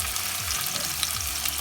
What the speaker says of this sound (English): We pan fried it on both sides, took it out.